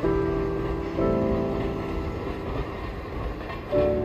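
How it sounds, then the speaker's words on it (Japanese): A freight train rumbles past at close range in snow in Hokkaido, a steady loud drone of rolling wheels and engine with a low tonal hum that swells near the end. "まだ貨物列車動いてるんだ。"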